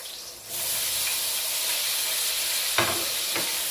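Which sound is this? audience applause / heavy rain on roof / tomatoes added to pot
tomatoes added to pot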